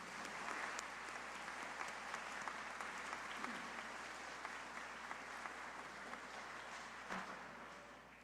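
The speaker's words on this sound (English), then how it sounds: "Let's give a wonderful round of applause for our regional winners." A crowd gives sustained, even applause for regional winners at a student art competition awards ceremony, many hands clapping steadily at moderate loudness with no voices on top.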